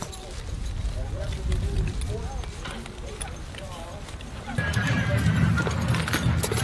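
Draft horses hitched to a wagon at a gathering in Batoche, Saskatchewan, with hoof clip-clops, shuffling and an occasional whinny under steady outdoor noise while people talk nearby.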